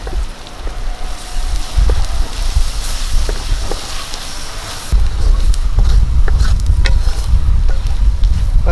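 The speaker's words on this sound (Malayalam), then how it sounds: "ഒന്നര സ്പൂണ് മുളക് പൊടി ഒരു സ്പൂണ് ചിക്കൻ മസാല നമുക്ക് നല്ലപോലെ ഒന്ന് പച്ചമണം മാറുന്ന വരെ ഒന്ന് വഴറ്റി കൊടുക്കാം" Chili powder and chicken masala sautéing in a pan for a home-style chicken roast, a steady loud sizzle with faint stirring scrapes, growing slightly stronger partway through.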